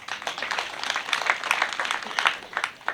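Scattered clapping from a small gathering at a school PTA annual general meeting, thin and uneven hand claps for the board and teachers, moderately faint with no voices over it.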